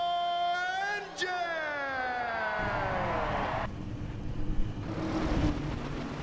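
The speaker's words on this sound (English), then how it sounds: "let's fire up those engines" NASCAR race cars starting up at Daytona in the iRacing video game: engines crank and rise into a loud, layered revving drone with a rising whine, then settle into a steady rumble of the full field idling and revving.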